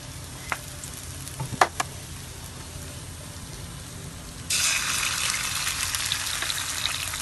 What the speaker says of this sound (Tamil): இப்பொழுது இதை ஓரத்தில் வைத்து 2 முட்டைகளை உடைக்க போகிறோம். சிறிதளவு எண்ணெய்,